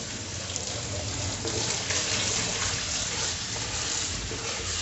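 Steady running water rinses a plastic fermentation bucket, a continuous broadband splashing rush with no pauses, close and fairly loud throughout.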